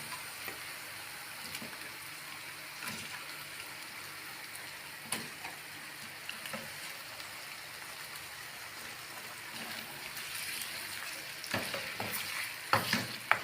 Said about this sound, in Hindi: अब इसमें हम चिकन डालेंगे, उसको फ्राई करेंगे